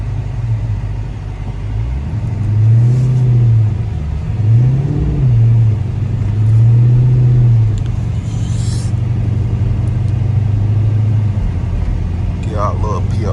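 A 2012 Dodge SRT 392 drives through snow, its engine a steady low rumble with a few swelling revs rising and falling throughout, close and continuous, while a voice talks over it.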